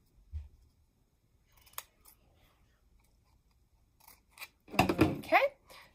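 Scissors snipping paper while a T-shirt shape is cut out for popsicle stick people: a few sparse, soft snips, then a close, louder burst of rapid cutting near the end.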